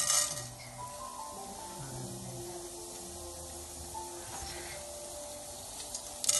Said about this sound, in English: See how it starts sizzling?